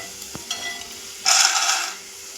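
Roasted, skinned peanuts are stirred in a pan over a soft background sizzle, with a brief louder scraping burst of stirring lasting about half a second.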